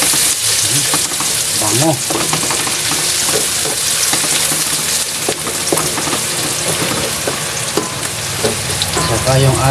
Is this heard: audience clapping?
no